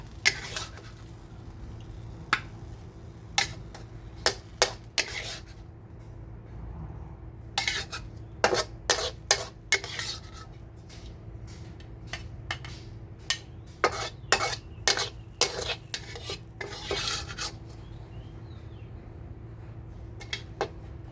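Metal utensils scrape and clack against pans and plates while stir-fried ginger pork and omelette are scooped out to serve, giving sharp, irregular clinks in bursts over a quiet kitchen hum.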